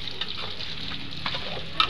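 Food sautéing in a pan during breakfast preparation for a festival: a continuous bright frying hiss with small stirring scrapes and a faint clink near the end, no speech.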